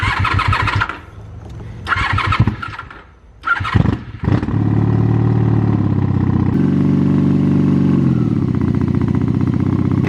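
A Honda Magna 750 motorcycle cranks with a few sputtering starter bursts and brief gaps, then catches and settles into a loud, steady idle close by, running alone without talk.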